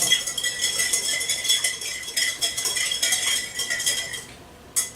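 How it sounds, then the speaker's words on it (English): Salad dressing being whisked with salt and black pepper for an Italian feast: steady, close metallic clinking and scraping of a whisk against a bowl, continuous for several seconds with a brief pause near the end. "And then we are just going to give this a good whisk."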